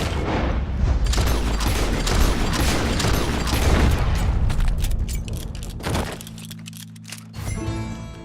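Gunfire in Red Dead Redemption 2 as a wild beast is shot: loud, dense booming blasts and cracks in the first half, thinning into scattered thuds and mechanical clicks, with a low hum toward the end.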